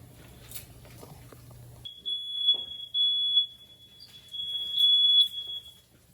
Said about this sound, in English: Every time that I'm cooking in that kitchen, that stupid fire alarm goes off